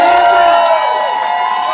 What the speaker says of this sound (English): I want everyone to make one last round of applause for Soofae